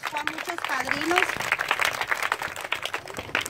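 Audience applauds an award recipient at a community Christmas recognition ceremony, steady close clapping filling the clip while a voice speaks over it.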